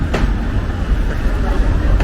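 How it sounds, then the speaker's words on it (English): Busy train station ambience in Minsk, a dense low rumble of engines and machinery with distant murmur, steady and fairly loud throughout. "But I'm at the train station."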